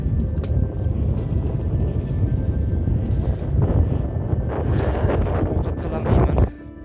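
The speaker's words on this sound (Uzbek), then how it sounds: "Shamol juda kuchli." Strong wind blasts across an outdoor camp where tea is being boiled, a loud, continuous rumbling buffet on the microphone that stays steady for several seconds and then cuts off abruptly near the end.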